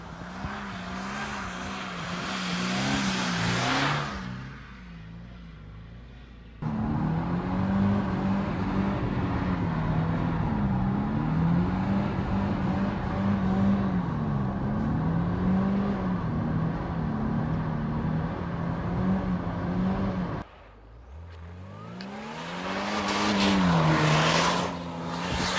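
A Mercedes-Benz W202 drift car revs hard and holds loud, sustained engine howl with shifting pitch, tires squealing as it slides, cutting out briefly twice between runs, recorded close with no talk.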